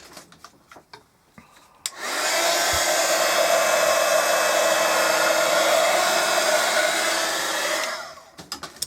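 A hair dryer blows steadily on wet paint on an exploding canvas picture for about six seconds, loud and close. Brief handling clicks come before it and after it cuts off.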